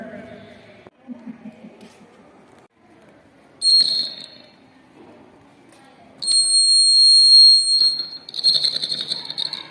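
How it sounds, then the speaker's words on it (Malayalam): A school-made dog repeller's buzzer alarm sounds in bursts, a shrill electronic tone sounding briefly, then holding for a couple of seconds and sounding again, with someone talking between and around the bursts. "നായ ഈ ചെമ്പുകമ്പിയിൽ വന്ന് തട്ടുമ്പോൾ ഈ ബസർ അലാറം കേൾക്കും"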